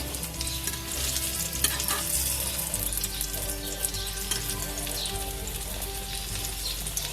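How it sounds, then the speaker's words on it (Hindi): Egg omelette cooking slowly in a pan over a low flame, a steady, close sizzle with light stirring and scraping running evenly throughout, with no voices. "अंडे को जो है वैसे भी हल्की आंच में पकाना चाहिए"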